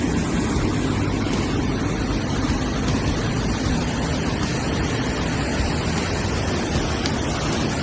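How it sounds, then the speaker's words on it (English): The 73-foot waterfall on the McKenzie River Trail roars steadily throughout, a loud, unbroken wash of falling water with no voices. "This is the top of the fall as it pours into the top."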